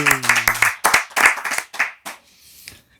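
Studio audience applauds a guest singer on a talk show, a short burst of individual claps that thins out and fades, with a brief voiced tone at the start.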